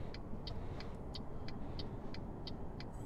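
Steady low rumble of a truck engine in Euro Truck Simulator, driving continuously between two other trucks, with a faint regular clicking ticking above the drone, like a turn signal.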